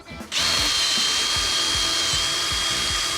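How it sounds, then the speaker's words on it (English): Power drill boring holes through a wooden triangle shelf: a continuous high motor whine starts after a brief pause, with regular low thumps as the bit bites, close and loud. "I'm actually going to drill some holes on either side and run some rope through"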